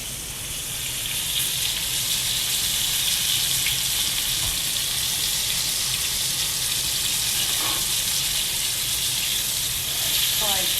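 Food browning in a pan for Marsala gives a loud, constant sizzle and hiss up close, with a few faint utensil scrapes now and then.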